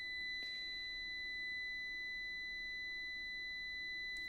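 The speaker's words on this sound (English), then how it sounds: "Cause this stupid beeping" Faint electronic beeping in a quiet room: a thin, steady high-pitched tone with brief beep bursts near the start and end, no talking.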